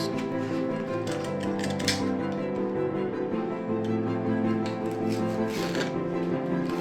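Material is trimmed off a homemade fake lollipop prop with a run of quick, close snipping and cutting sounds over a steady background hum.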